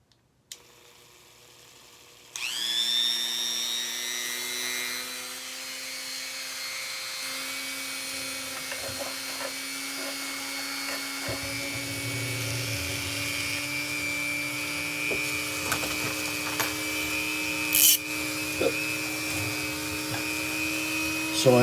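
A small rotary power tool winds up sharply after a quiet start, then holds a steady high whine while cutting a piece of model railway rail, with faint scraping and ticks along the way, close and alone for about twenty seconds.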